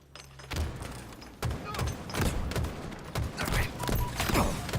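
Rapid gunfire from a Halo Infinite ranked arena match, with repeated bursts and thumping shots crackling across the whole stretch, loud and close.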